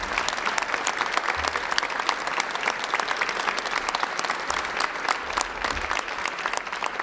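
An audience at a Down Syndrome Protection Act event gives a round of applause as Karen walks off, with dense, steady clapping that is loud and continuous throughout.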